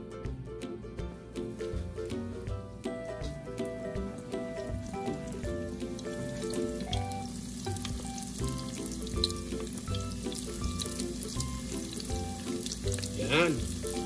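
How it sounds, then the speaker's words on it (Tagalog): Bean sprout spring rolls sizzle and crackle steadily in hot oil, a dense continuous frying hiss with music playing softly underneath. "Try na natin iprito."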